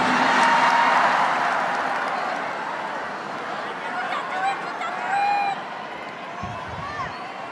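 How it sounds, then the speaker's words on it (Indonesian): Applause from a large audience at a national solidarity declaration event, a dense sustained patter of clapping that gradually fades, with faint crowd noise underneath. "kok tepuk tangannya paling keras nih"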